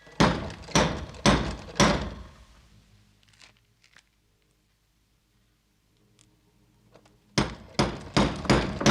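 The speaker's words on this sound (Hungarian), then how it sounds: "Jobb helyen ezzel kopogtatnak." A door knocker strikes a door in two bursts of loud, sharp metallic raps, four or five blows each. The second burst follows a few seconds of near silence.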